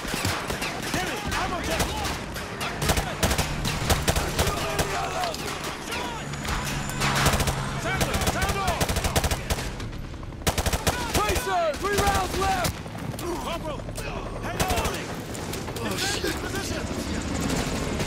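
Dense, sustained gunfire from Call of Duty: Modern Warfare 2 Remastered, rapid bursts and crashes filling the scene with a steady combat din, while voices shout over the shooting throughout.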